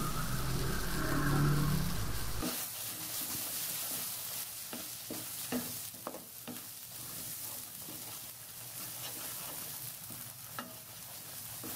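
Spice paste with red chili and turmeric powder fries in a pan for a chicken feet, wings, gizzard and potato curry, a soft sizzle broken by repeated scraping taps of a spoon stirring, fairly quiet and close.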